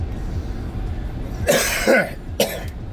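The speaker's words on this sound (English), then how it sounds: "I apologize for my cough." A man coughs outdoors beside a road, three harsh bursts over steady background noise, fairly close.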